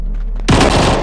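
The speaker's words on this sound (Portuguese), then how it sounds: "Vamos dar um tiro no zumbi com uma Uzi que eu peguei aqui." A sudden burst of Uzi gunfire in the Crossfire zombie video game, fired at a zombie, erupts as a loud, close rapid volley after a brief quieter moment.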